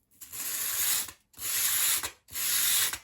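Three separate strokes of sandpaper rubbing a bevel along the edge of a small wooden dollhouse-scale coffee table piece, each a steady scratchy rasp lasting about a second with short pauses between, close and fairly quiet.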